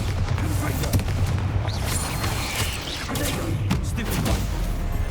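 A Bombarda blasting spell goes off in Hogwarts Legacy, heard as a rumbling, crackling burst of explosive booms with debris-like clatter, fairly loud and continuous, with a faint voice in the mix.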